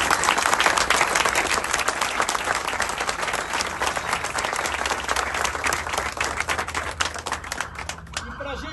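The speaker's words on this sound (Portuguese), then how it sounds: "eu queria pedir a vocês uma salva de palmas para a performance sensacional da Rebeca" A crowd at a Flamengo club gathering applauds Rebeca's performance with dense, continuous clapping that stays loud throughout before thinning slightly at the end.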